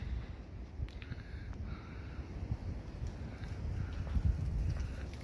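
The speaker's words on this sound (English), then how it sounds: "It's a windy one." Wind gusting outdoors on a snowy late-November day near Pike's Peak and Cheyenne Mountain, a continuous low rumbling buffet that swells toward the end.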